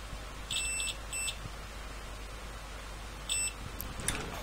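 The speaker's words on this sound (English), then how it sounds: "so we should have a beep here" A continuity tester on a TDA2020 audio amplifier gives short electronic beeps, a pair early and another brief beep later, faint over a low background hum.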